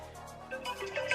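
A phone ringtone sounds from an incoming call, a brief melodic electronic tone rising in loudness over about a second, heard on its own.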